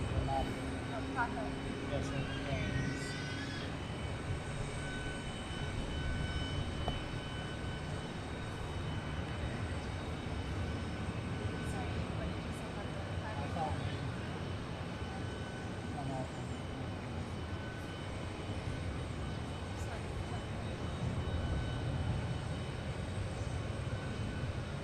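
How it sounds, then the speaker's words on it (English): A Southwest Boeing 737-700 jet airliner lands at Dallas Love Field, producing a broad, continuous engine roar that stays steady, with faint voices and radio chatter mixed in. "But the one coming in is Flight 1437 from Kansas City,"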